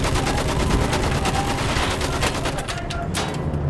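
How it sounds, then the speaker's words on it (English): Machine gun fire in Battlefield 1, loud rapid bursts with a rhythmic stutter of shots up close, continuing almost unbroken for a few seconds and easing slightly near the end. "Use that machine gun! Mow them down!"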